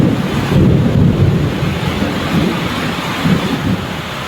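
Heavy rain pours down in a powerful thunderstorm, a loud, dense, continuous roar with low rumbling surges of thunder swelling through it, close and unbroken, without voices.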